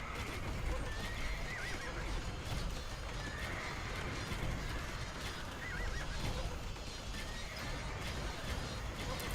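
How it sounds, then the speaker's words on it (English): Horses neigh amid steady hoofbeats as horse archers move to fight paladins in the Age of Empires 2 Definitive Edition video game, with whinnies rising over a dense battle din. "get those horse archers into motion there to fight those paladins right away."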